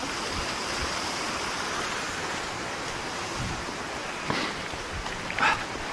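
A pretty waterfall in woodland pours with a constant broad rushing roar, steady and fairly loud, with a few faint knocks near the end and no voices.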